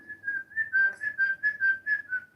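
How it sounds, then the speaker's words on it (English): A person trying to whistle through pursed lips produces a series of about nine short, pulsing tonal notes at a steady pitch, close and clear with no talk over them. "I can hear you whistling."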